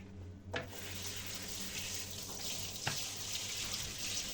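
A greasy dishwasher spray arm rinsed under a running tap: continuous close water stream splashing into a sink, with a couple of brief knocks as the plastic arm is handled.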